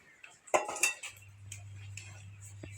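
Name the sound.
wok being placed on the stove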